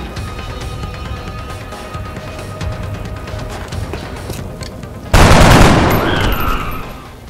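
Sustained video game gunfire crackles steadily at moderate loudness, then a much louder, sharper burst of shots erupts near the end and gradually fades.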